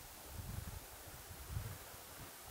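Steady broadband wind noise buffeting the microphone beside a creek, with low rumbling gusts swelling and fading and no voices.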